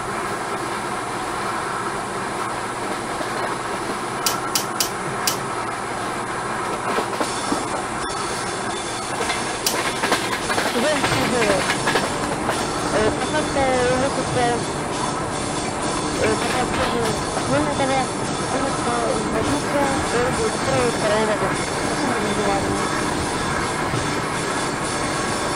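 An ED4M suburban electric train running on the Belgorod–Rzhava line in ZDSimulator, with a steady loud rumbling hiss of motors and wheels, occasional squeals and clicks, while speech plays over it.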